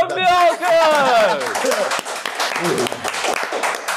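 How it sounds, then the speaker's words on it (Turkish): Audience applause and cheering at a Turkish rap show, a loud crowd clapping that fills the stage space, with an emcee's voice shouting over the start before the clapping carries on steadily. "Kocaman bir alkış."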